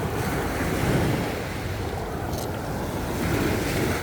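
Sea waves surge and wash in a continuous roar along the shore, with wind buffeting the microphone, swelling and easing over a few seconds and no talk.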